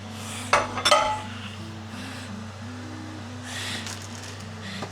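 Carrots drop into a pot of chicken noodle soup with a brief clatter of metal and utensils, followed by quiet kitchen hum and faint stirring.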